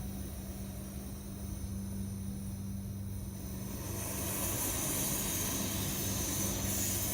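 Whisperlite camping stove burner roaring steadily, a continuous broadband rushing hiss that swells louder partway through and holds, close and alone with no talk.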